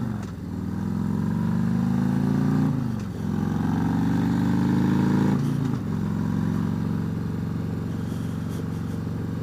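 A motorcycle ridden along a debris-strewn country road, its engine droning loud and close with rising tones as it accelerates through the gears, briefly dipping at two shifts, then easing off toward the end.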